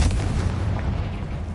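A Confringo fire spell detonates in Hogwarts Legacy on PS5, a loud sustained boom with heavy low rumble that stays dense and steady through the whole moment, without voices.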